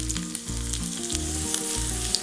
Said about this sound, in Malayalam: വറുത്തിടാൻ വേണ്ടി 1 ടേബിൾ സ്പൂൺ വെളിച്ചെണ്ണ, 1/4 ടീസ്പൂൺ കടുക്, കടുക് പൊട്ടിക്കഴിയുമ്പോൾ ഒരു ചെറിയ ഉള്ളി വട്ടത്തിലരിഞ്ഞത്